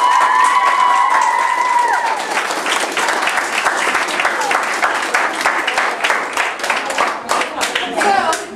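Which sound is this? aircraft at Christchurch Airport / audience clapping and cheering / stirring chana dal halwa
audience clapping and cheering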